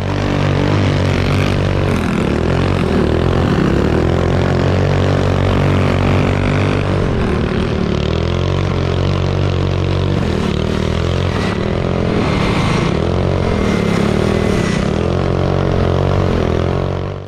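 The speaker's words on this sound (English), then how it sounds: "Here you can see Kyle hanging on for dear life in the corners" Several go-karts, one of them a Murray, race around a dirt circle track, their small engines droning loudly and continuously with rising and falling pitch as they pass through the corners; no one talks.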